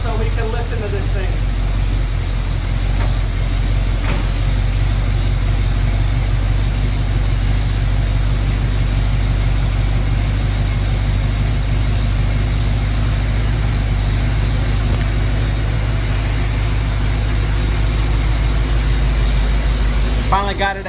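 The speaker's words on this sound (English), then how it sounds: "Finally got it at a decent idle. Sounds pretty good." A 1974 AMC Javelin engine idles steadily for twenty seconds, a constant low rumble close by with a faint rhythmic pulse, while someone talks over it.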